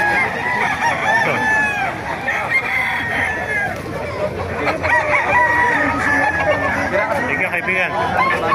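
Roosters, McLean Hatch gamefowl among them, crow repeatedly at a busy Bocaue poultry market, several crows overlapping with clucking amid a constant hubbub of crowd chatter and people talking nearby.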